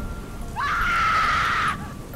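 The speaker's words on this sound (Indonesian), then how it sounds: "suara teriakan" A scream sound effect in a horror story narration: one loud, high, sustained cry rising sharply and held for about a second before cutting off, heard alone with no talking.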